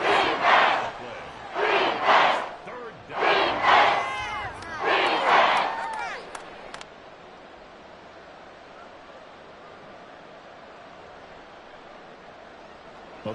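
A stadium crowd in the American football game Madden 24 on EA Sports roars in four loud surging chants, rising and falling, then settles to a steady distant murmur.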